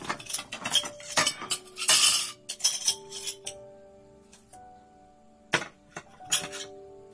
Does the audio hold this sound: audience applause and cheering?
no